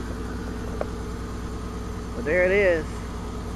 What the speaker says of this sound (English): I want to clear all that out, so I might have to rev it out a little bit.